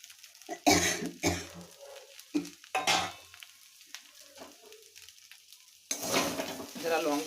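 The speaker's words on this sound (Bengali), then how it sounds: "এরপরে ভাজা আলুটা দিয়ে দেবেন।" Chowmein with fried potatoes added, stirred in a pan at home: loud scraping and clattering strokes over a continuous sizzle, with a cough or throat clearing mixed in.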